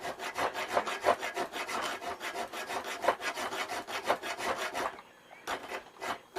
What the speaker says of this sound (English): It's a rasp.